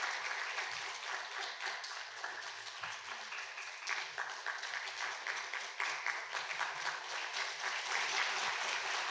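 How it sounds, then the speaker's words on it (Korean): Congregants at a Sunday church service clap continuously for a graduation certificate and gift presentation, a dense, sustained applause from many hands at moderate level, steady throughout with faint murmuring beneath. "이제 수료증과 선물을 드릴 때 박수로 축하해 주시기 바랍니다"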